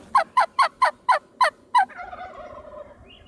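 Wild turkeys gobble from the woods near a clear cut during a spring turkey hunt: seven loud, evenly spaced gobbles in quick succession, followed by softer trailing calls with no talking.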